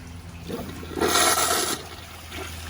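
A Kohler Kingston toilet empties its tank in one short, nearby whoosh of water lasting under a second, between quiet stretches of faint room noise.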